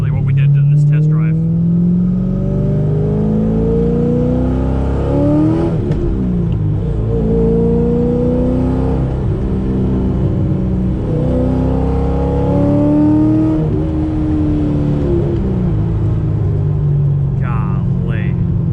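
A C5 Z06 Corvette engine revs hard and pulls through rising gears on a back road, a loud, close, sustained roar with repeated climbing pitch sweeps and brief shift breaks, a voice speaking faintly underneath.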